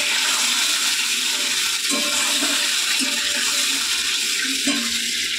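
Water poured into a pan of mustard paste, green chili paste and black cumin curry for hilsa, a steady loud bubbling sizzle and splash running throughout, with no voices.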